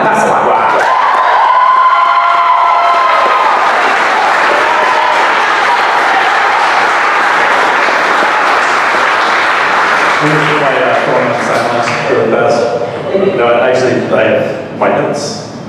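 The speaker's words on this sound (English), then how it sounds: "Can we give a big round of applause for our digital tools instructor, Alan Hasselbach?" Crowd at a comics event applauds and cheers loudly, with whoops and shouts over dense clapping that stays strong for most of the stretch before thinning out and giving way to some voices near the end.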